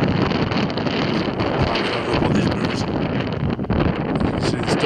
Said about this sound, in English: Very windy, but you can hear me.